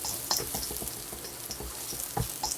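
Shallots sizzle and crackle in a hot wok as they are stirred, with scraping spatula strokes and popping over a steady frying hiss.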